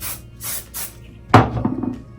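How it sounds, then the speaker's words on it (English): Aerosol hairspray misted onto hair in three short, soft hissing bursts at close range, followed by a brief knock and some faint handling noise. "Spray it again."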